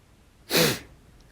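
A single abrupt sneeze bursts out close by, loud and breathy, lasting about a third of a second amid near silence.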